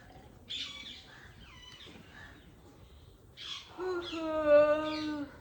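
Harsh, squawky calls of parrots perched in a rosewood tree ring out from a little distance, quiet at first and then a louder burst of shrill, raspy cries near the end.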